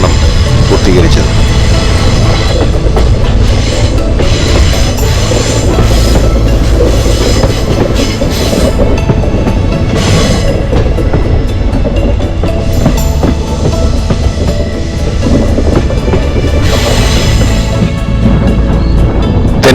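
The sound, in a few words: train running on the Punalur–Thenkasi railway line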